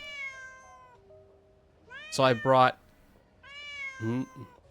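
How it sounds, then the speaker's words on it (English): In-game cat meowing in Neverness To Everness, several drawn-out plaintive meows with a couple of short double mews between them, mixed with a man's speech and faint music. "The cat's just gonna keep meowing, huh?"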